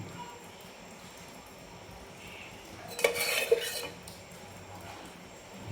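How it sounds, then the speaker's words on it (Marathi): A metal spoon clinks against a pan while ghee is added for tempering dal with spinach, a brief cluster of sharp clatters near the middle over a quiet, low background. "एक 2 चमचे फक्त तूप टाकले."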